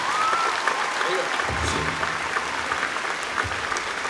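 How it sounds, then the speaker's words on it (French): Crowd at Comic Con Paris gives loud, sustained applause, a thick continuous roar of clapping with a few brief voices rising through it. "Est-ce qu'on peut les applaudir très très fort, s'il vous plaît?"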